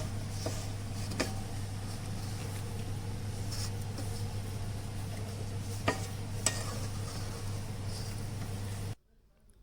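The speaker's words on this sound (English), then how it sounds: "Make sure that you scrape all the sides so that there will be no lumps into your batter." Eggless plum cake batter being mixed and scraped around a bowl, with soft repeated scraping strokes and occasional sharper taps over a steady low hum, ending abruptly in near silence.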